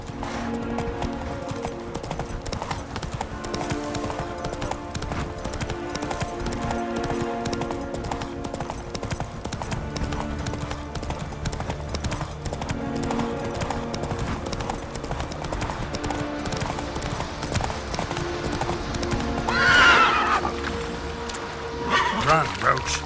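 Roach the horse galloping in The Witcher 3, a steady rhythmic clip-clop of hooves carrying on throughout, close and clear beneath music and occasional spoken voices.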